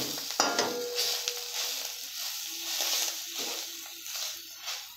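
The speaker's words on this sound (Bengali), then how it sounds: "তো এইভাবে ভেজে নেব।" Dough mixed with egg fries in a pan with a steady, soft sizzle and occasional stirring scrapes, close up and with no talking.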